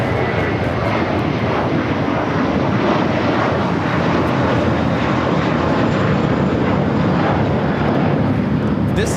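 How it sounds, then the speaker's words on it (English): An American Airlines Airbus A321 takes off with a loud, continuous jet roar that holds steady throughout and fills the space with broad rushing noise. "This is American Airlines 2891 taking off to Chicago on the A321."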